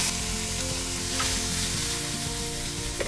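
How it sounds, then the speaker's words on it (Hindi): Onion, boiled peas and finely chopped green chillies sizzle in a pan over moderate heat for a paneer samosa filling, a steady, loud, continuous frying hiss with faint stirring, no talk. "अब इसमें डाल देंगे हम ये उबली हुई मटर और बारीक कटी हुई हरी मिर्च।"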